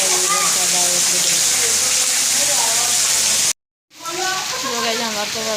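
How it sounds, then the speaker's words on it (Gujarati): Heavy rain in Vadnagar hisses and patters steadily, cut off by a brief silent gap before the downpour returns, with faint voices mixed in. "જો ગાઈઝ અમારે તો વરસાદ આવી ગયો છે."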